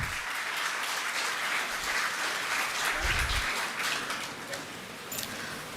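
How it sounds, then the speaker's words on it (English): An audience at an international computational and cognitive engineering conference claps steadily, a dense, continuous round of applause filling the hall with no talk over it. "A big round of applause, please."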